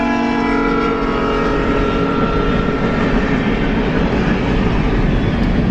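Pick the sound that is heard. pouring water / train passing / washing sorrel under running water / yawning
train passing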